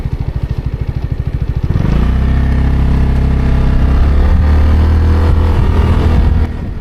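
A Zontes 368G motorcycle idles with a rapid, steady putter, then the rider pulls away. The engine swells into a louder, even drone close to the microphone, with no talk over it.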